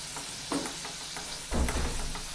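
Homemade French fries fry in hot oil, giving a continuous crackling sizzle. Two louder surges of bubbling, at about half a second and a second and a half, suggest the potatoes being stirred or moved.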